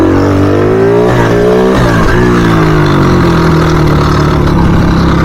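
A cheap, low-powered pit bike engine revving hard and close, loud and continuous, with the pitch rising, dipping sharply, then holding at a steady high drone.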